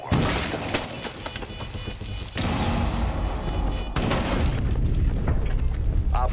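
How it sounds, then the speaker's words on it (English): Breaching charge explosions in Rainbow Six Siege: a dense barrage of loud booms and blasts, with gunfire-like crackle layered throughout and a sharp surge near the middle, loud and close with no talk. "Setting up a breaching sequence."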